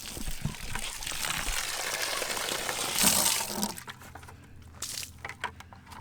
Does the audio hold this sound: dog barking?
no